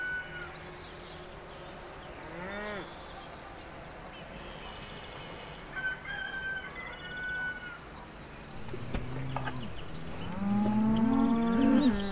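Cows low in a hedged countryside meadow, with several deep, drawn-out moos at different distances, the loudest near the end, and occasional bird calls in the open-air background.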